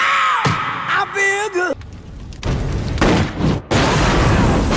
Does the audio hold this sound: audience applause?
no